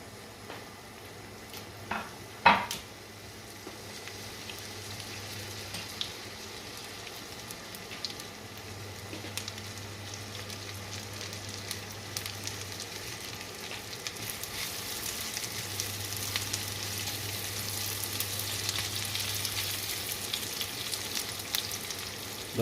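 Onions sautéing in a pan for a meatball dish give a soft, continuous sizzle and crackle at fairly low level, with a couple of brief knocks near the start and the frying growing slightly brighter later on.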